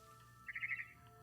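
A bird chirps in the video game What Remains of Edith Finch, a short bright burst of a few quick tweets in the middle, alone over a low ambient game hum.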